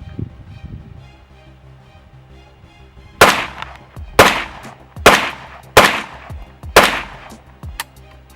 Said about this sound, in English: That was pretty rapid fire.